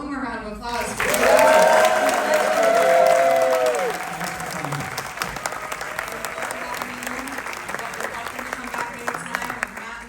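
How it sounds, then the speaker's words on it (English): A theater audience at a Gremlins 2 anniversary screening Q&A bursts into loud, sustained applause that swells and then slowly thins into scattered clapping, with a voice talking over it near the start. "One more round of applause for"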